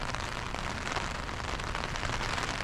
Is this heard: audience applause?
no